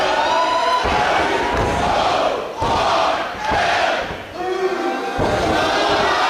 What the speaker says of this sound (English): Listen to this crowd is deafening